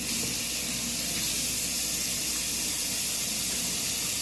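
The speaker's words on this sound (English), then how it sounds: "So now I'm about to rinse out my skin, you guys." Tap water runs steadily into a bathroom sink during face rinsing, a constant hissing splash with no talk.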